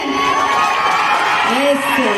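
A crowd of about a hundred people at a Kantara film promotional event in North Karnataka cheers and whoops in a dense, steady roar, with shouting voices rising near the end.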